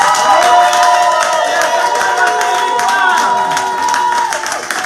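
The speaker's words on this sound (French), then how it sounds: "Donnez des acclamations de victoire." A church congregation cheers and acclaims loudly, a dense swell of shouting voices with scattered clapping that stays strong before easing slightly at the end.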